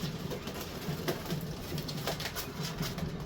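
Pigeons in a loft coo steadily in low, repeating murmurs, with a faint wash of background noise and no talking.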